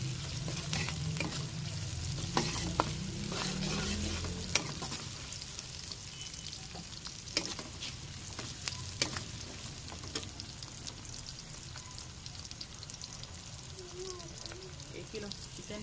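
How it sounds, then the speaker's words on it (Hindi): Chopped onions sizzle steadily in a hot pan for a home-cooked potato and meat curry, a constant frying hiss with occasional utensil clicks and stirring over it. "प्याज को थोड़ा सा नरम हमने सोफ करना है, फ्राई करके देखें सोफ भी हो जाएगा"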